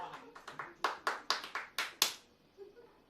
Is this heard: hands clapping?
yes